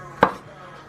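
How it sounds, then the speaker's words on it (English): A single crisp knife cut through a vegetable sliced on a bias, one sharp close chop against a board in an otherwise quiet kitchen. "I'm just going to go ahead and slice this on a bias"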